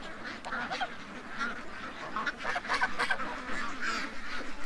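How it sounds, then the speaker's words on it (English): Ducks quack and honk in a steady, busy chorus while playing in the mud beside a big stream in the morning, moderately close with overlapping calls throughout. "watch ducks playing in the mud in the morning on the big stream"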